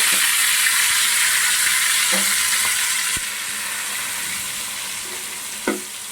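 Raw prawns with green chillies and mint frying over high flame, a loud continuous hiss of hot oil with a few scraping stirs.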